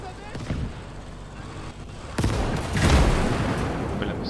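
Tank cannon fire and explosions in the World War II strategy game Gates of Hell, with a sharp boom midway followed by a heavier rumbling blast, over game background noise.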